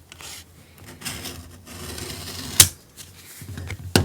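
Scissors cutting folded paper to give it a frayed edge: soft rubbing and snipping with a sharp crisp snip, close and fairly quiet.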